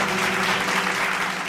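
An audience at a Tamil Bible study gives steady, dense clapping that sounds full and fairly loud throughout, with no voice on top.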